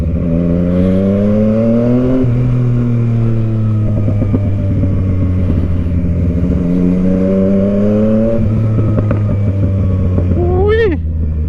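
A Tracer motorcycle on new tyres accelerates in repeated rising revs with gear-change dips, a loud, near, throaty engine drone, ending in a sharp high rev at the close.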